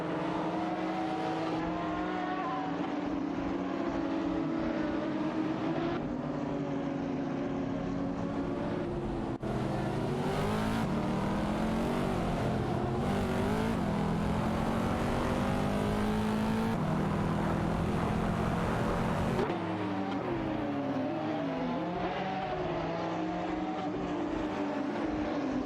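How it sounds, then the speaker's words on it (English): Racing car engines from a video game, a Ferrari 599 GTO and a McLaren 570S, drone loudly and continuously, their pitch rising and falling through gear shifts with layered overlapping tones. "Patton Tanker in the Ferrari 599 GTO is locked in a fierce tussle with Kazishuk's McLaren 570s for the 16th position"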